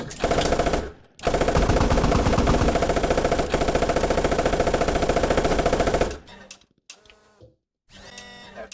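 Rapid machine gun fire in a tank combat game, a loud sustained stream of evenly spaced shots lasting several seconds, then quieter clatter and brief bursts.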